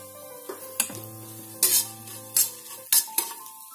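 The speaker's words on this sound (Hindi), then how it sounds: "जीरे को फूटने देते हैं।" Mustard seeds and cumin seeds crackle in hot oil with a pinch of asafoetida, a few sharp pops and spatters standing out over a steady low sizzle, with utensil clinks between them.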